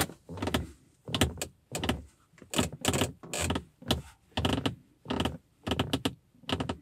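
Short creaks and squeaks of BMW Z4 interior door trim repeat roughly twice a second, close and fairly loud, with brief pauses between them.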